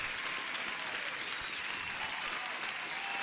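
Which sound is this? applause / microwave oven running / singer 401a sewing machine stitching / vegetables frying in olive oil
applause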